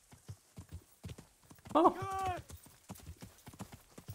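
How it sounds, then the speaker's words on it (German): Horses in Kingdom Come Deliverance, with rhythmic hoof clip-clops through the scene and a short whinny in the middle, alongside someone talking. "Ich sehe hier zwar Wildpferde oder Pferde, die weiden, besser gesagt."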